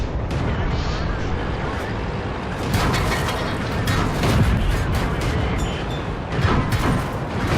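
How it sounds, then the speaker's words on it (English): Tank cannon fire and armored vehicle mechanisms in the World of Tanks game, with loud, dense battle noise, gun blasts and rattling clanks throughout, over constant engine rumble. "we're going to put focus fire into the tank destroyer there"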